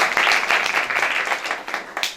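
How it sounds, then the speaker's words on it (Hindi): An audience at a school event applauds students, a dense wash of steady clapping from many hands, loud and sustained for a couple of seconds. "तालियां बजाते हैं।"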